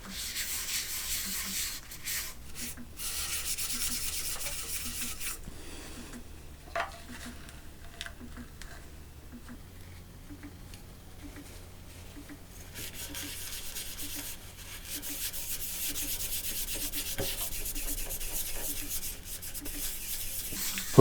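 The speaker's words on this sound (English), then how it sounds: "So my first step is to apply the sanding paste." A rag rubbing sanding paste into a wooden bowl, a soft continuous scrubbing hiss that comes in stretches with a quieter pause in the middle, near and fairly faint.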